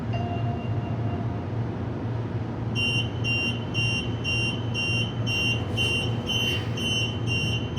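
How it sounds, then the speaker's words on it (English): Warning beeps of a closing door on a suburban electric train, a steady series of evenly spaced high tones over the low hum of the idling carriage. "Doors closing"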